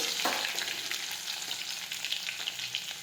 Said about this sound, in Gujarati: હવે આપણું તેલ છે તે ગરમ થઈ ગયું છે હવે આપણે તમારા રાઈ અને જીરું નાખી દઈશું ખાંડેલું લસણ નાખીશું